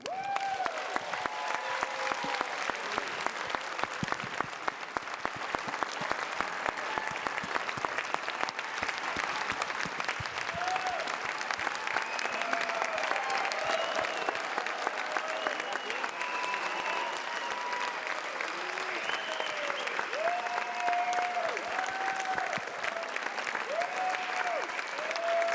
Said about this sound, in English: please give a big round of applause for the guy that started it all